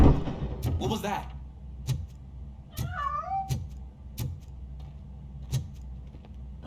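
A cat meows in the RoboCop: Rogue City video game, a single clear, close mew with a rising-then-falling pitch, set amid sparse clicks and footsteps over a low background hum.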